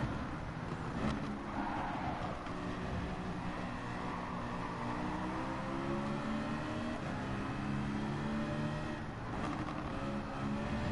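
Peugeot race car engine in Gran Turismo 7, a steady high-pitched engine drone with harmonic tones rising and falling through gear changes, continuous and fairly faint throughout.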